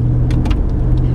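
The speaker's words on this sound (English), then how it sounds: "Joe, a car coming." Engine and tyre noise of a car hold a loud steady low hum, close by throughout the short stretch, with no voices.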